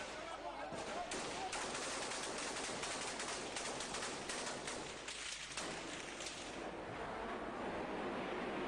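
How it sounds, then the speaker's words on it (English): Rapid, dense bursts of gunfire from a frontline battle against regime forces in a war, crackling almost continuously and fairly loud, with faint voices mixed underneath. "they're taking pot shots at nothing in particular"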